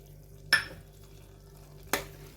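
A spoon stirs a mixture into carrot halwa in a pan, giving two brief scraping clacks about a second and a half apart over a quiet background.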